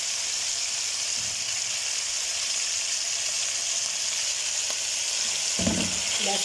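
Garlic frying in oil in a karahi while making creamy white chicken karahi, giving a steady, close sizzle and hiss throughout, with a brief stirring clatter near the end.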